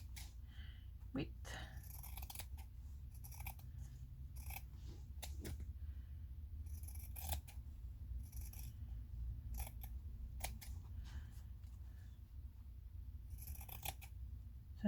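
Scissors snip through quilt fabric in a quiet room, a series of crisp, close cuts at an uneven pace over fifteen seconds, soft and faint with low background hum.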